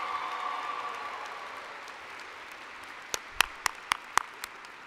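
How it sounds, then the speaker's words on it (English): An audience in a school chapel applauds, a soft spread of clapping that fades, then a few sharp, distinct claps near the end. "Girard, please give a big, big round of applause for these members who have suffered through the pandemic."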